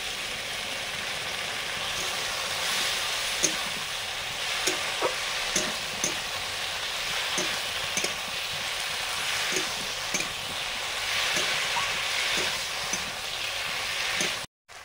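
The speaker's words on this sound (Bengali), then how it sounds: "পোস্ততে নেড়ে জল দিয়ে দিচ্ছি" Poppy seed paste stirred in a pan, a steady bright sizzle broken by regular soft scrapes of the spoon every half second or so, close and continuous for the whole stretch before cutting off abruptly at the end.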